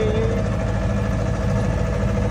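Tractor engine running on a village road, a steady low rumbling drone with constant vibration, close and unbroken.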